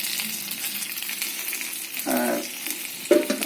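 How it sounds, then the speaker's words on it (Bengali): Horn fish (shing fish) fry in a pan with a steady hiss and crackle, broken by a brief low scraping or stirring sound and a sharp clink near the end. "এখন হচ্ছে আমি মাছগুলো দিয়ে দিব আস্তে আস্তে, এগুলো কিছু খানিকক্ষণ কষিয়ে নিব আমি।"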